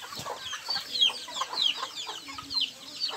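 Mixed-breed chickens clucking in short, repeated bursts, fairly close, with a busy scatter of bird calls and no talk.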